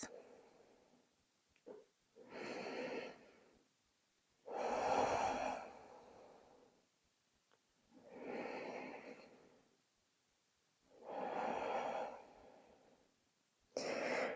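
Slow, deep breathing during a full-body yoga stretch in child's pose, with long audible inhales and exhales alternating in a calm, even rhythm, close and alone with no talk.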